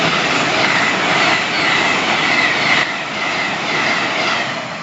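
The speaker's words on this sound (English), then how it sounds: "that train that swiped through was the service from Leeds" A Class 800 train from Leeds to London King's Cross speeds through Hatfield on the East Coast Main Line, a loud, sustained rushing roar with rattling wheels and a faint squeal, close by and without speech.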